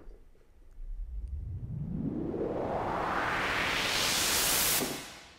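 A synthesized noise sweep made in Reason 5 software, a filter opening steadily from a low rumble to a bright hiss over about four seconds, then stopping quickly.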